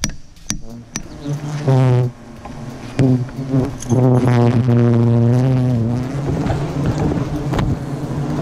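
Loud, close buzzing of large, aggressive tropical bees at honey hives, droning in rising and falling swells as insects fly near, with a few sharp knocks between.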